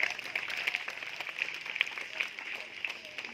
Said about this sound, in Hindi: तो अंकिता के लिए जोरदार तालियां।